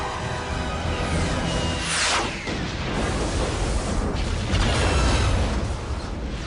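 A loud explosion bursts as a jet takes off during an escape sequence in the 1997 James Bond film Tomorrow Never Dies, with a sharp blast near the two-second mark over dense, continuous rumble and action sound.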